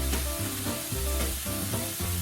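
Pork belly sizzles steadily in a frying pan while being cooked for Korean spicy stir-fried pork, a continuous crackling hiss with rhythmic stirring or shifting pulses, close and fairly loud with no talking.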